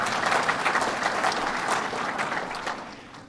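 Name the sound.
applause from the audience for the budget director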